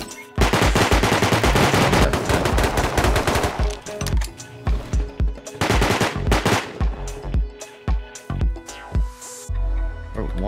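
Rapid automatic gunfire in the video game Rust rattles loud and close in dense bursts, then breaks into shorter spaced volleys and single shots.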